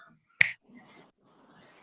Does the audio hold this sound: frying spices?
no